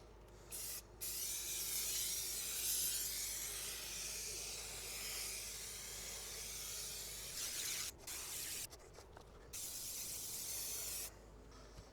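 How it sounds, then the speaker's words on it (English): Spray adhesive hissing from an aerosol can onto car interior carpet in a barn-find Firebird, a steady close spray broken by a few short gaps and brief bursts toward the end, with no talking. "give her a couple of quick sprays"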